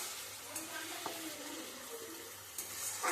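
Water poured into a pan of frying stone-ground spice paste for a vegetarian banana-flower curry, a soft low splashing and sizzling hiss, faint and steady, with a few small clinks of utensils.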